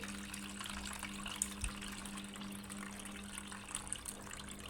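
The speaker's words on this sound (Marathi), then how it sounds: "सर्व पाणी इथे मी काढून घेत आहे" Water pours steadily into a bowl as it is drained off pickled raw mangoes, a continuous splashing trickle with a low background hum.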